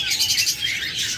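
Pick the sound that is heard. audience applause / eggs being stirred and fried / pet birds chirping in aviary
pet birds chirping in aviary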